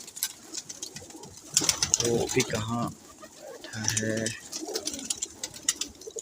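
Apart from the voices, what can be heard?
pigeons cooing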